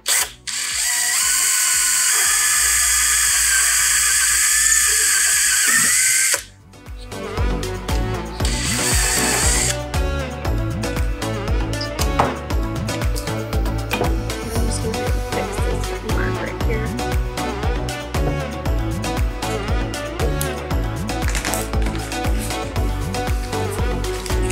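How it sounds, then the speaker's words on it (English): A power drill bores a hole in a wooden pullout kitchen cabinet shelf: a loud, steady motor whine for several seconds, then a brief pause before a longer stretch of close, gritty drilling with uneven grinding and ratcheting pulses. "now I'm gonna drill the hole"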